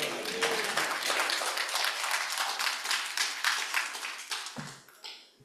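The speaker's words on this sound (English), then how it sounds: "Let's give them a round of applause again." A church congregation applauds during a Sunday morning service, steady dense clapping that holds for several seconds, then thins and fades out near the end.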